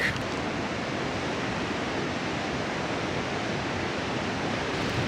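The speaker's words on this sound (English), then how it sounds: "You could actually feel like the thunder of the water" Burney Falls waterfall in California, a dense, constant roar of crashing water heard from nearby, steady and loud throughout with no talk.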